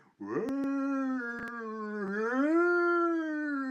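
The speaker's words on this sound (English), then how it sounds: "As the bellows howl out the haunting sounds." Bellows howl out a long, sustained haunting tone that bends upward and holds steady for several seconds, loud and close, with a few sharp clicks near the start.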